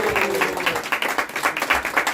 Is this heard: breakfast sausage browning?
no